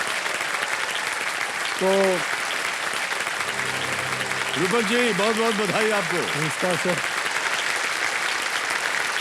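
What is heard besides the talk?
studio audience applause on KBC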